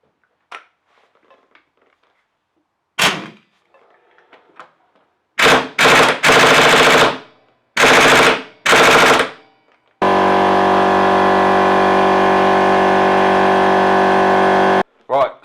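An impact gun hammers at the front sprocket nut of a classic Suzuki Bandit motorbike, with several short loud bursts followed by one long, steady rattling run of about five seconds, all close up.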